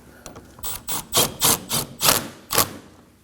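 Ratcheting clicks in several short bursts while a 10 mm bolt is snugged onto the engine splash shield of a 2014–2020 Acura MDX. The bursts are close and fairly loud, with brief pauses between them and no talking.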